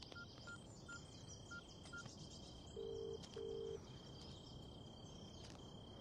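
A telephone is dialed in a film scene, with two short electronic keypad tones over a steady hum of night insects and faint distant chirps. No voices are heard.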